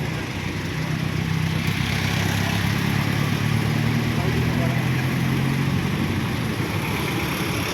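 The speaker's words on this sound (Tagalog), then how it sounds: "pinapainit pa yung makina" A vehicle engine warms up at a steady idle, a continuous mid-pitched rumble that holds close and level throughout, with roadside noise behind it.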